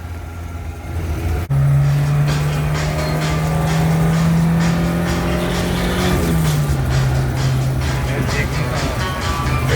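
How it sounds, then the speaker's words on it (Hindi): A Maruti Gypsy's petrol engine runs loud and close, a steady drone that rises slightly in pitch before settling back lower, with no talking over it. "You can hear the petrol engine purring and wanting to go."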